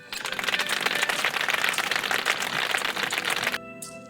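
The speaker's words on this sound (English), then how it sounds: "they will definitely defend their young by going over there and rapidly clicking their beaks together to create some sounds" Large herd animals in the video game Gura, on open plains, rapidly click their beaks together, making a loud, dense, continuous clattering rattle that cuts off abruptly near the end.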